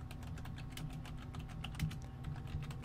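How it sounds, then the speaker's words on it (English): Rapid, irregular tapping of a computer keyboard during a video game session, soft clicks in quick bursts over a faint steady background hum, no voices. "Can you hear my keyboard?"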